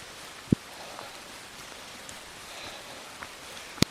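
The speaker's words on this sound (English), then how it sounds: "That was a drop of rain hitting the recorder." Raindrops strike a recorder outdoors under a tree canopy in rain: two sharp, close knocks, one early and one at the very end, over a faint steady hiss.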